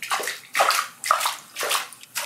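Small splashes of water hit a rubber duck toy in five rhythmic, evenly spaced sloshes, close and moderately loud.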